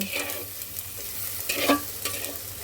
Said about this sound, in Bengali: তো চলো এবার পেঁয়াজটাকে একটু সুন্দর করে ভেজে নেবো